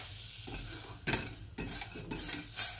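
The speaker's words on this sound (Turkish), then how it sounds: "Çikolatamız eriyene kadar karıştıralım." Dark chocolate, 120 grams of bitter chocolate, is stirred into warm liquid cream for ganache on a stovetop, with close scraping and clinking strokes of a utensil against the pot, several quick passes with short pauses.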